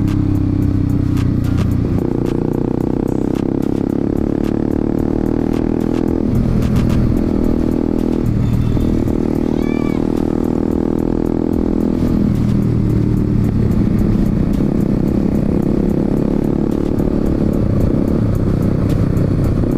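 A motorcycle rides at full throttle through a group ride in Makassar, its engine droning steadily and loudly for the whole stretch with wind rush, and brief dips and surges in revs.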